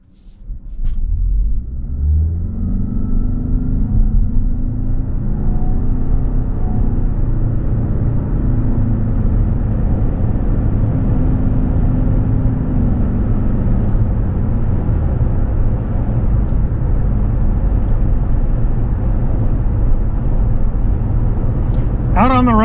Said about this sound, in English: Out on the road in this 25 RAV4 SE plug-in hybrid